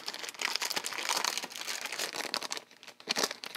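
A plastic bag from a Disney sticker kit crinkles and crackles continuously at close range, with dense, busy rustling that swells and dips over a few seconds.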